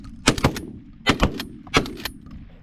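Shotgun blasts at a flock of pigeons on a hunt: three loud, close reports, the first two in quick succession and the third after a pause, with no talking.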